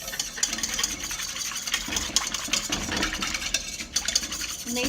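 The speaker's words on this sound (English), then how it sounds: "And then I go ahead and take the whisk." A whisk stirs pizza dough mixture in a bowl, giving a steady, continuous scraping and swishing with small irregular surges, fairly close and without talk.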